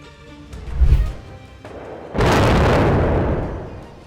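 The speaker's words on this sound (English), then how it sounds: "A Salt Lake Community College power substation at 22 West and 4700 South exploded" A power substation at Salt Lake Community College, 22 West and 4700 South, explodes: a deep thump, then a loud, roaring broadband blast that slowly fades, heard from a distance.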